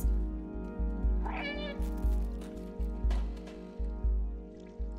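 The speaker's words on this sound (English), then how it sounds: "The meow gives you clues." A cat meows in the video game Stray, one clear drawn-out meow near the start, set over a steady looping rhythmic background of soft repeating thumps.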